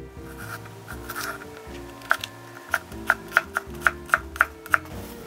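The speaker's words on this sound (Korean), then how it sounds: "이렇게 굵은 잎은 한번 썰어줘야 되거든요" A knife chops boiled spring cabbage and green onion on a cutting board with sharp, evenly spaced cuts, around ten close crisp strikes that settle into a steady rhythm over soft background music.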